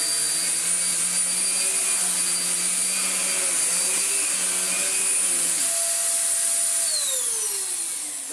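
A Morphy Richards Perform-Air 73381 upright bagless vacuum cleaner runs with a steady high-pitched motor whine and airflow rush, spinning up at the start and winding down near the end, close and alone.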